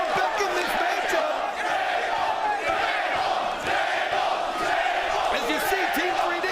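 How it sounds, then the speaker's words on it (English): A wrestling arena crowd at a TNA iMPACT event at the Hard Rock roars and cheers continuously, loud and sustained with shouts rising out of the din. "Well, the crowd loves that one, guys."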